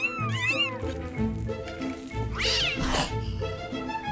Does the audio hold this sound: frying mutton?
no